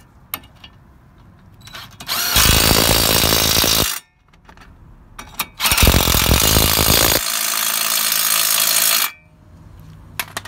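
An impact gun tightening brake caliper bolts on a Vauxhall Corsa E during a front brake pad and disc change: two long, loud buzzing rattling bursts of about two and three-and-a-half seconds, separated by brief clicks and handling noises, close up.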